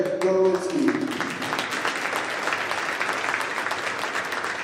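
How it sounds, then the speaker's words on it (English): A crowd at a high school wrestling meet applauds wrestling alumni, and a brief tonal sound at the start gives way to a scattered, steady patter of clapping from a moderately distant audience in a gym. "Let's give another round of applause to our Tuttle Wrestling alumni"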